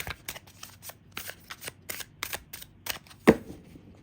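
Oracle cards being shuffled by hand, a run of quick crisp riffling flicks at steady rhythm, close and fairly quiet, ending with one sharper slap as the deck is squared.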